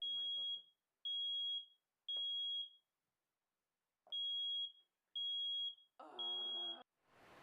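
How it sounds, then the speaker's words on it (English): A smoke alarm beeps loudly in long, piercing tones repeated at steady intervals, with brief pauses between beeps and some muffled background noise near the end. "I love when my smoke detector goes off"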